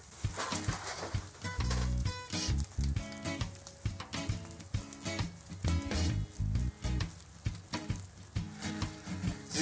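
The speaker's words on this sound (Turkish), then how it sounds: "zincirin içerisinden çıtır çıtır sesler geliyor." A bicycle chain is turned by hand with grit caught in its links, giving a close, irregular crackle of rapid clicks and gritty rasps in uneven bursts.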